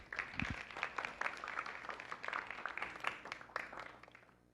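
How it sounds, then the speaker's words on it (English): Scattered applause from a small audience at a lunchtime talk on cycling and diving, moderately quiet claps with uneven rhythm that thin out toward the end. "Let's give him a round of applause."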